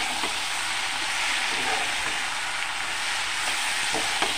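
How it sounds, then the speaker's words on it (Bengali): Spices with Kashmiri chilli powder fry in a pan with a continuous loud sizzle. Faint scrapes of stirring sound now and then, with no talk. "আবার ভালোভাবে নাড়াচাড়া করে নেব।"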